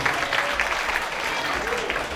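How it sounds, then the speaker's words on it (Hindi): Audience applause at a jubilee festival in an ashram, with devotees clapping in a dense, moderately loud patter. "आपकी तालियां वैसे पहले ही बज चुकी हैं, थोड़ी और बजेगी।"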